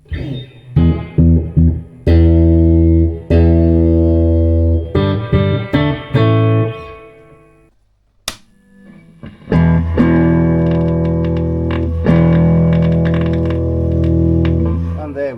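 Distorted electric guitar chords blare through a Fender Hot Rod Deluxe 1x12 amplifier with a faulty speaker cone, giving a gritty, throaty tone, played in bursts with pauses and a few sharp clicks between.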